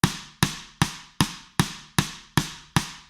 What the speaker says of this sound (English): And then we add in this side stick here, which sounds like this by itself.